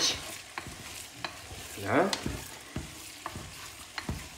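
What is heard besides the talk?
oxtail pieces frying and being stirred in a pan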